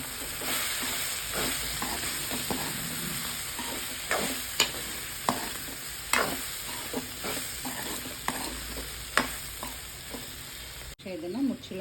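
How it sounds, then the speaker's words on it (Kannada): A pot of bendi aloo, okra and potato curry, sizzles steadily while a spoon scrapes through it, giving a dozen or so sharp clinks against the pan over the constant frying hiss. "ಈಗ ಇದನ್ನು ಹಾಕಿ ಮಿಕ್ಸ್ ಮಾಡ್ಕೊಳ್ಳೋಣ."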